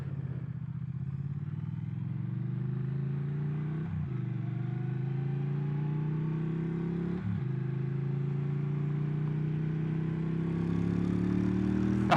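A Triumph Thruxton 1200 motorcycle engine runs steadily at a mid-pitched drone while riding, with two brief dips like gear shifts, no talking.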